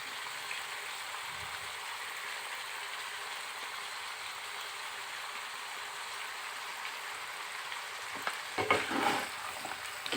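Desi chicken with salt and turmeric-coated potatoes fries in a pan, a continuous close sizzle throughout, ending with several louder scraping stirs. No voices.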